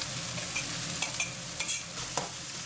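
Cabbage, garlic shoots and garlic are tossed and stirred in a hot wok, sizzling steadily with quick scraping clatters of a utensil against the metal.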